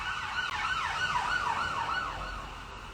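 A passing ambulance-type emergency siren cycles rapidly in a repeated rising and falling yelp, loud and steady before easing off slightly at the end, with no voices.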